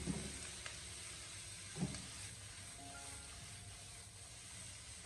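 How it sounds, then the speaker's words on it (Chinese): Onions and egg stir-fried in a wok over high heat give a soft, steady sizzle and hiss, broken by a few faint clanks of the spatula, with no talking. "我们开大火将它持续的翻炒，大概1分多钟"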